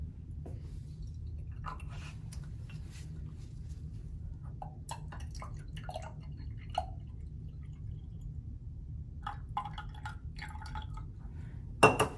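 Deionized water poured into laboratory glassware during a precision and accuracy experiment gives a faint, uneven trickle with scattered small drips and light glass clinks over steady low background hum, ending in a brief louder clink.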